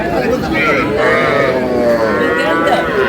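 Young cattle, bulls and heifers including a Sahiwal heifer, moo loudly and continuously at a village cattle market, overlapping calls close by with people talking over them.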